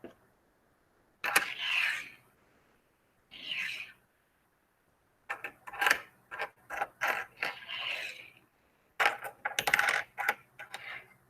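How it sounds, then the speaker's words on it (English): A nickel and several dimes set down on a table one after another, giving bright metallic clinks and small clattering clusters separated by short pauses, close and fairly clear. "now what I'm going to do is I'm going to add a variety of coins"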